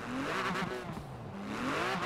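A Rocket Bunny 2015 Porsche Cayman GTS street build in Forza Horizon 4 revs steadily, a loud sustained engine drone with wavering pitch and no talk over it.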